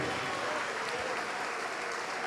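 Church congregation clapping together during a worship service, a steady, full round of applause from many hands, fairly distant and even for the whole short stretch.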